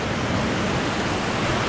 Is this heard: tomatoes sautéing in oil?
no